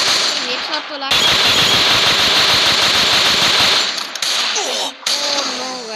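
Rapid automatic gunfire in a first-person shooter match, dense bursts of sharp repeated shots filling several seconds, with brief quieter gaps and more shots after.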